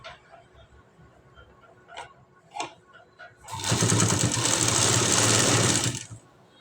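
A sewing machine stitches piping along a blouse neckline in one loud, steady whirring run of about three seconds, preceded by faint soft handling noises.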